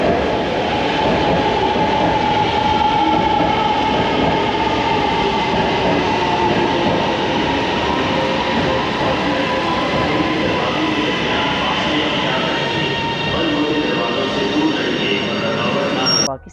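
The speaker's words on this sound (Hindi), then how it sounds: "तो ये है ऑरी लाइन मेट्रो ट्रेन लाहौर।" Orange Line metro train in Lahore running, a loud continuous rumble of wheels and motors heard from inside the carriage, with faint squeals and rail clatter throughout and a brief drop at the end.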